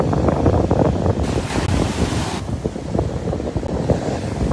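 Waves wash against the northern shore of the Sea of Galilee, a loud, continuous surf with heavy wind buffeting the microphone and no voices.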